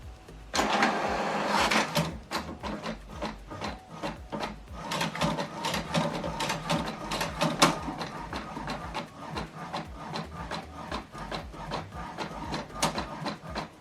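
An HP Deskjet 2700e inkjet printer runs a double-sided colour print, its carriage and rollers whirring and rasping in repeated passes, close and moderately loud with no voices.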